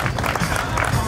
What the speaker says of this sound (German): Das bedeutet nicht nur ein zweitklassiger Applaus, sondern natürlich ein erstklassiger.